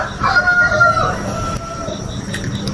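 A rooster crows at night, a drawn-out call ringing above a constant loud background rumble, with faint clucks and chirps scattered around it.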